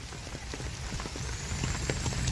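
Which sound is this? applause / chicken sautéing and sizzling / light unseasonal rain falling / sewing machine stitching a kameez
light unseasonal rain falling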